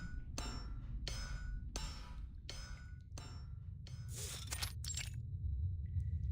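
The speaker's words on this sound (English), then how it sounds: "His hammer strikes down heavily on the glowing red-hot metal." A hammer strikes down heavily on glowing red-hot metal in a blacksmith workshop in the Reverse 1999 video game, five sharp ringing metallic blows at a steady rhythm, then a brighter clattering crash, loud and close.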